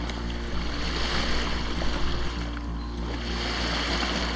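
A sailboat under full sails runs at night off the Florida coast, with a steady, loud wash of water and wind against the hull and a low continuous drone throughout, no voices.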